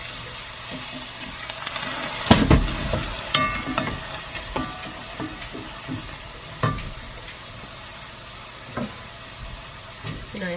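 Onions frying in a pan for a vegetable curry, with crackling sizzle under scattered stirring clatters and a louder scrape early on, fairly close and steady throughout.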